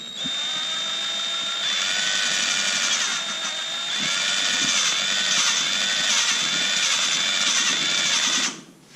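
A power drill spins to lap the valves in a small-block Chevy cylinder head, a steady high whine running continuously for about eight seconds with slight pitch wobble, then cutting off near the end.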